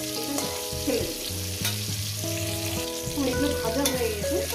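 Eggplant and tomato fry in oil with a steady crackling sizzle and stirring scrapes, heard close up beneath continuous melodic background music.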